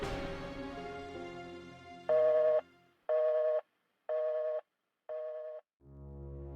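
A telephone call to the police being placed: four evenly spaced electronic ringing tones repeat at roughly one-second intervals, close and clear, after a fading tonal intro, with no talking.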